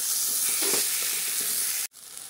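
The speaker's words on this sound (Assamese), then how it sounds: "মই এইখিনি এনেদৰে ভাজি লৈছো তেলতে" Food fries in oil with turmeric, giving a steady close hiss that cuts off abruptly near the end and then resumes more faintly.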